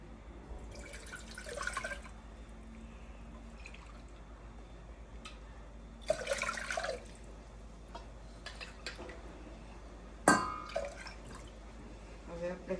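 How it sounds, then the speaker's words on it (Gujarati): Water is poured into rice flour in a pot in a home kitchen. Three short splashing pours stand out against a quiet room hum, with drips between them. "આપણે ડબલ પાણી નાખશું એની અંદર"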